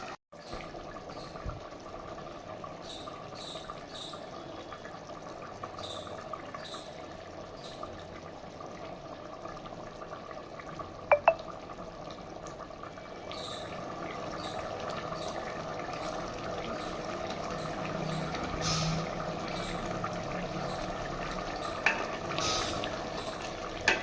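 Mutton sautéing in a pot until its released water cooks down, a quiet steady sizzle and bubbling with occasional stirring scrapes and clinks, growing slightly louder toward the end.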